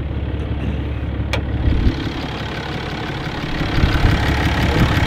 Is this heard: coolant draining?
no